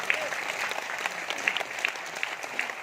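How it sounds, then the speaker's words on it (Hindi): Seminar attendees clap together, a moderate and fairly even burst of applause with a few sharper individual claps standing out. "ताली बजाओ।"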